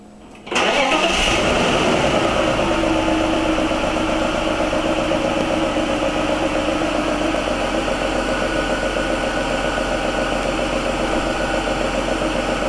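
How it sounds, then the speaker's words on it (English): A car engine cranks and catches, then settles into a loud, steady idle that hums on without a break. "what I'm going to do is start the car up"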